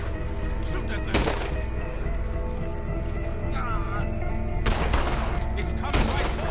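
Gunfire rings out in Red Dead Redemption 2, with several sharp shots in bursts amid horse hooves and game noise, while voices speak over the action.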